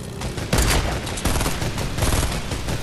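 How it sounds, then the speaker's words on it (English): Video game gunfire, including sniper rifle shots, cracks in a tournament match as several sharp reports and bursts land over a busy, noisy background without any speech. "Oh, someone just sniped."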